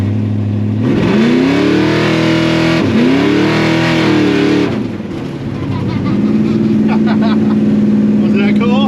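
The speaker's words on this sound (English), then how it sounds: "All I did was spin the tires." A 1955 Chevy Gasser engine roars through repeated hard revs as it launches and spins its tires, loud and close, then settles to a rough idle.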